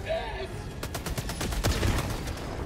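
Rapid bursts of automatic gunfire in the video game Helldivers 2 crackle loud and close in a dense, repeated volley, with a voice faintly present underneath.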